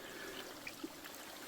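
A tiny creek about half a meter wide in the Oregon Coast Range trickles steadily, a soft continuous wash of running water with faint gurgles, heard alone.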